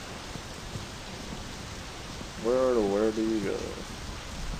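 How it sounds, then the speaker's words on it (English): Steady rain falls in the video game My Summer Car, a continuous soft hiss throughout with a brief spoken phrase over it near the end. "I love the rain so much."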